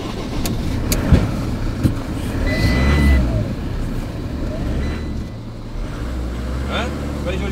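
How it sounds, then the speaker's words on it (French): The engine of an Iveco New Daily van runs steadily throughout at a fair volume, a low, continuous rumble with some clatter and background noise from a Paris tour event, and people talk nearby. "Je peux tourner les moteurs."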